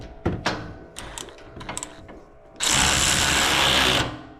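Ratchet work on bolts while fitting a Ranch Hand bumper to a Toyota Tacoma: scattered close metallic clicks, then a loud, sustained mechanical whirring burst lasting over a second before it stops.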